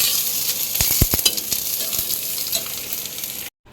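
Pointed gourd (potol) pieces fry in a pan with a bright, continuous sizzle, punctuated by a few sharp clicks and knocks of a utensil against the pan, up close and without any voices.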